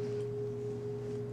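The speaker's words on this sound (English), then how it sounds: "And this, I don't know what kind of bowl they call this." Singing bowl of the kind heard at Kathmandu temples, a steady, pure ringing tone with faint low overtones, sustained evenly and fairly quietly throughout.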